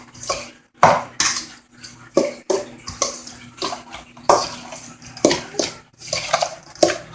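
Broccoli salad dressed with mayonnaise is stirred in a bowl, a run of wet, rhythmic scrapes and clinks of utensil against bowl, about a dozen strokes, loud and close with no talk.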